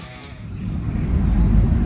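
A car drives along a road in India near Colonelganj on a family trip, a low engine and road rumble heard from inside that grows louder and steadier.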